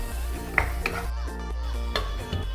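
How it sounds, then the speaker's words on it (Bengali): A spoon scrapes and clinks against a pan while poppy seed paste is stirred for a fish curry, giving soft irregular metallic taps and scrapes over a steady low background. "আর পোস্তুর কাঁচা গন্ধটা যতক্ষণ না যাচ্ছে ততক্ষণ আমি এটা নাড়িয়ে যাব।"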